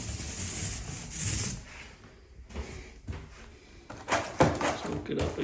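A paint roller rolls paint onto a wall near the floor with soft, close rubbing and sticky swishing strokes, uneven in level, plus a few light knocks.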